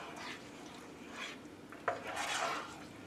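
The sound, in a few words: stirring peach oatmeal in Ninja cooker pot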